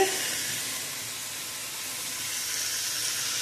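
Oil heats in a pan with a little fish, giving a steady, even hiss and faint sizzle with no voices.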